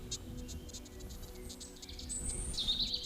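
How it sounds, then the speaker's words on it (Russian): Birds chirp and call in a forest, a few high tweets standing out against a quiet outdoor background, with a brighter burst of song near the end. "Свежий воздух, пение птиц."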